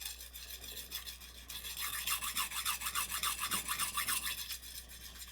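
A Japanese kitchen knife is drawn back and forth over a whetstone in steady, rhythmic scraping strokes, close and clear, quickening into regular passes after a quieter start.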